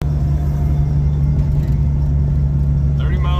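A 1997 Jeep Cherokee XJ with a five-speed manual and 315,000 miles is heard from inside while driving, a steady loud low engine and road rumble running throughout, with a brief higher squeal near the end.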